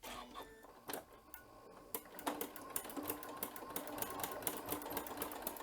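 Sewing machine with a ruffler attachment stitching and gathering fabric, a rapid rhythmic mechanical clatter that starts hesitantly, then settles into a fast, even ticking run, close and moderately loud with no talk.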